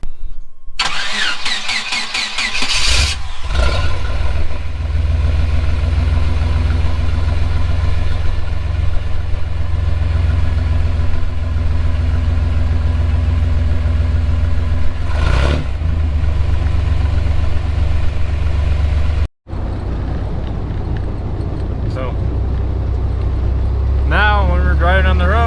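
A Chevrolet Blazer with a new exhaust on a test drive, starting with a brief crank and then a steady loud engine drone that holds through the ride, with a short cutout near the end and a voice talking over it.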